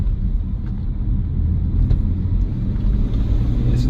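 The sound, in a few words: BMW M3 E46 SMG engine downshifting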